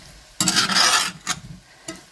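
Paneer cubes frying in masala for paneer butter masala, stirred in a pan: a long burst of scraping sizzle followed by two shorter stirring strokes, close and fairly loud.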